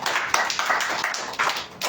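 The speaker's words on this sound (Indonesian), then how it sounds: "Beri tepuk tangan yang meriah buat Tuhan" A church congregation claps during a worship service, producing bursts of fairly close hand claps in an uneven rhythm that rise and fall in waves.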